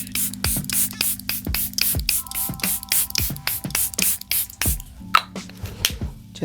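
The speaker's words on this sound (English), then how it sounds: "I'm going to use my Charlotte Tilbury Airbrush Flawless Setting Spray." Charlotte Tilbury Airbrush Flawless Setting Spray goes off in about a dozen quick, close spritzes, each a short hissing burst of mist in a steady, rapid rhythm.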